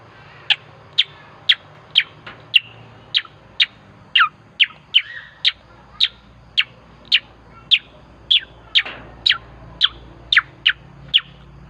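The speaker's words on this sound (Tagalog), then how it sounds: "Kuha ko yung boses sa mga ibon." A bird repeats a sharp, bright chirp in a steady rhythm, around twenty calls spaced evenly, close and clear over quiet background.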